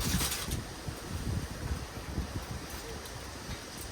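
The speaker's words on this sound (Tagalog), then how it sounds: "Sarap na lakas ang hangin." Steady, loud wind buffeting the microphone with a low rumbling roar and gusty thumps throughout, no voices, in a strawberry garden.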